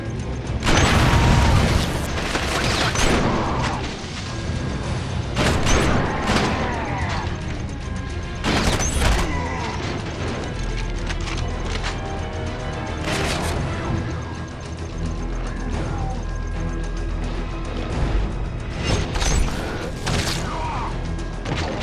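Gunfire rings out in the PlayStation Vita shooter Killzone Mercenary, with loud, dense volleys of shots, heavy booms and crashing impacts running continuously through a busy game battle.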